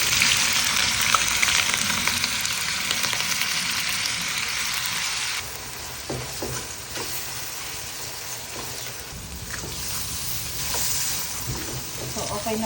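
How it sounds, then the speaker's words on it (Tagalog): Hotdogs frying in hot oil in a pan, a loud steady sizzle that hisses brightly at first and settles a little later, with occasional clinks of stirring and some talking over it. "Fried muna natin yung hotdog."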